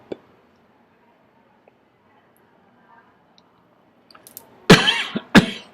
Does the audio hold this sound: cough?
yes